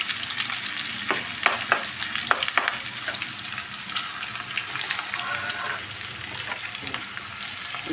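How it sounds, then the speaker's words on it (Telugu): Cashew nuts frying in a pan for chicken curry give a steady crackling sizzle throughout, with scattered sharp pops and spoon scrapes, close by and moderately loud. "జీడిపప్పు వేసుకుంటున్నానండి"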